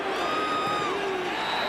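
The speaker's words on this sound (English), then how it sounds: "And the crowd chants Louis." Stadium crowd at a 2008 Utah vs BYU college football game, roaring and chanting right after a touchdown, a dense, steady wall of crowd noise with a faint voice carried over it.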